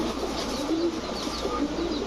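Pigeons at a Bengali loft selling Giribaj and racing birds coo steadily and close, a soft continuous murmur of overlapping calls with no talking.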